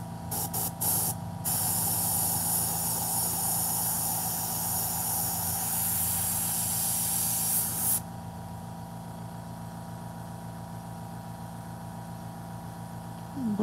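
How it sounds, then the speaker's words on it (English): An airbrush that needs cleaning sprays in a steady, close hiss for about eight seconds, with short bursts at the start, then drops to a quieter running hiss and hum. No one talks. "I believe this airbrush needs to be cleaned out a little bit"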